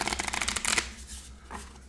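Monster cards for the Castle Ravenloft board game are riffle-shuffled in a rapid, crisp flurry of snapping card edges, then a pause and one softer card sound, close and loud with no talking.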